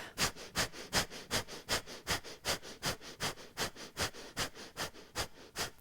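Rapid, forceful exhales pushed out through the nose during a yoga breathing practice, a steady train of about eighteen sharp puffs at roughly three per second, close and even, with no talking.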